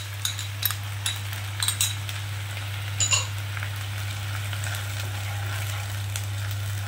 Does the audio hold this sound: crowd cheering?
no